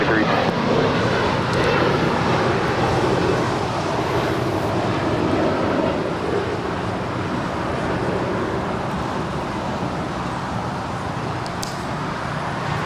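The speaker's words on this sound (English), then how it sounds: "Korean Air, the 747-8 Intercontinental. This is a passenger 747, flight 17 coming in from Seoul, not just a minute out from a touching down there" A Korean Air Boeing 747-8 Intercontinental passenger jet on final approach to land at LAX after flying from Seoul, a continuous loud broadband engine roar with a voice talking over it throughout.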